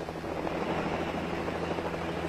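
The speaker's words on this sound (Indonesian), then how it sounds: "Wow, helikopter." Helicopter in the LEGO Jurassic World video game, a steady rotor and engine drone held at constant loudness throughout, with no breaks or talk over it.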